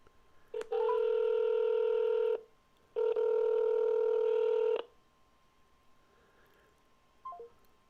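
Two long, loud steady telephone tones sound in close succession, the kind made while a call is being dialed to a number, followed by a short faint blip near the end; no one speaks.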